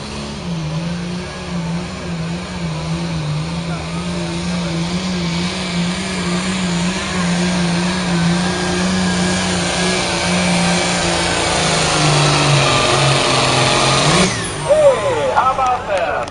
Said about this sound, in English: Giving her some gas, getting ready to let her rip.